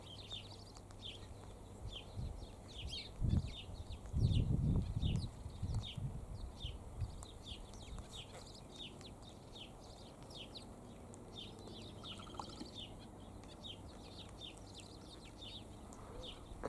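Apostlebirds and sparrows calling in a steady stream of short chirps and chatter throughout, moderately close, with a few low thumps and rustles near the start.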